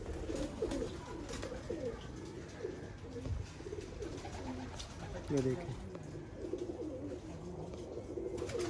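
A Salara Teddy pigeon on a rooftop coos in repeated soft, throaty bursts, close by, while someone talks over it.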